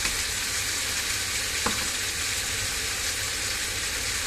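Spicy snakehead fish, already fried, being stir-fried with young peppercorns, holy basil and chilli: a steady, loud sizzle with soft stirring scrapes and no voices.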